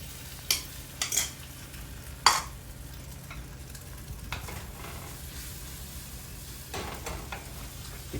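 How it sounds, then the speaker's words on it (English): Eggs and chopped tomato cooking in a non-stick pan for a vegetable omelette, a low steady sizzle with a few sharp spatula scrapes and taps early on, close, with no talking. "The key to making a nice fluffy omelet is to keep mixing it."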